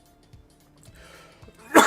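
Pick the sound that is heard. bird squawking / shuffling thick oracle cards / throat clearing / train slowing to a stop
throat clearing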